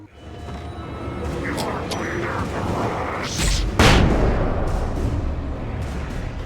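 A sharp boom of gunfire bursts out in the Alan Wake video game amid a steady rumbling game soundscape, with voices talking over it.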